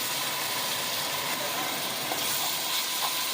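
Garlic-ginger paste, a heaped spoonful, hits hot oil with cumin seeds in a pan while cooking chana dal with bitter gourd, giving a steady, loud, hissing sizzle that holds evenly throughout with no voices.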